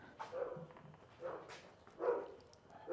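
Dogs on a property give a few faint, distant barks and yips, scattered in short bursts over quiet background.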